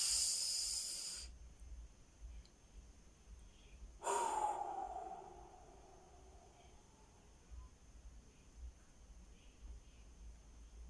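Two deep breaths taken close to the mic: a sharp hissing inhale at the start, then a long, fading exhale a few seconds later, with quiet room tone between and after.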